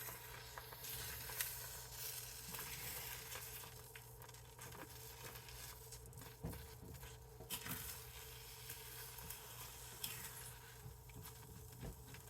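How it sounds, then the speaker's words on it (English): Food bubbles and sizzles gently in a pan, a quiet crackling patter with irregular pops and occasional scraping clicks. "I see you bubbling."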